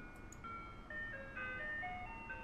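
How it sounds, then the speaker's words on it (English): A truck rolls slowly past in the horror video game Perceptions of the Dead, a low rumbling drone under a sequence of tinkling melodic tones, steady and moderately loud with no speech. "The truck passes me, inches from clipping my shoulder, and heading straight towards the kids."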